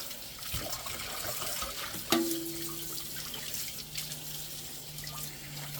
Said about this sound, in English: let me finish rinsing these off